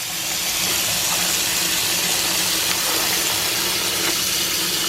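Cold water gushes steadily and loudly from a tap over boiled eggs, a continuous even rush with no pauses and no voices.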